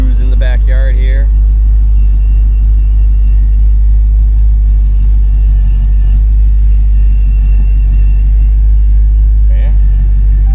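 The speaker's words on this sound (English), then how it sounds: "We can go for a little cruise in the backyard here." A classic Dodge Charger restomod running at a slow cruise through a backyard, with a loud constant low engine rumble close by and someone talking over it at the start and briefly near the end.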